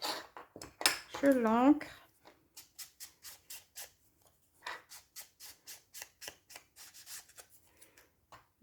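Scissors snip decorative paper for a scrapbook mini album, a quick run of small close crisp cuts after a short spoken phrase in French.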